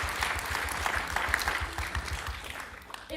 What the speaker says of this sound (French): Un peu de l'applaudissement.